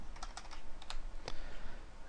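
Several quick, light keystrokes on a computer keyboard while code is entered in Visual Basic, spaced irregularly across a short stretch over a faint background hiss, with no voices.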